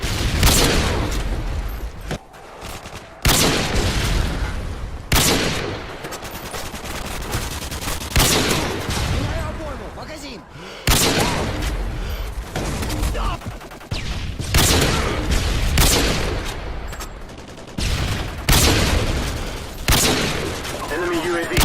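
Rapid bursts of Call of Duty video game gunfire, loud and close, with automatic volleys and single heavy shots separated by brief pauses, repeating throughout.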